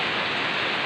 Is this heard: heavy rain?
yes